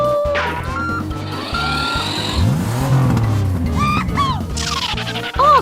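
A car engine revs loudly and steadily, with rising and falling tones and a sharp tire squeal near the end, over a busy background of other sounds.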